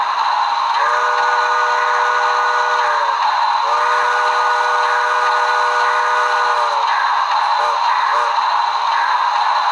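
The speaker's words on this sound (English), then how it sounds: "here's 7080's whistle." A shrill model train steam whistle, from a Broadway Limited Paragon 2 Grand Trunk Western 7080 locomotive, blows in three long blasts followed by a couple of short toots, loud over a constant hiss.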